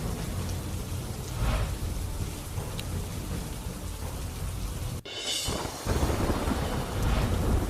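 Heavy monsoon downpour over flooded farm fields, a steady dense roar of rain with a sharp thunderclap crashing in partway through and rumbling on, no voices.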